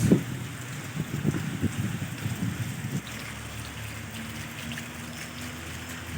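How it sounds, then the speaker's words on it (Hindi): Heavy, steady stormy rain pours down in a dense wash in Kashmir, with heavier splashing bursts early on before settling into a constant roar. "बारिश की तो बहुत ही तूफ़ानी किस्म की बारिश है"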